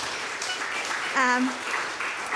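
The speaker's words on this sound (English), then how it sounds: "So please give them a round of applause." Audience applause for a jazz trio and Chinese music ensemble after a concert set, steady clapping with a brief voice or cheer rising through the middle.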